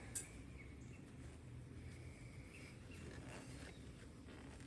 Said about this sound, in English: Oh, a lot of bees up here.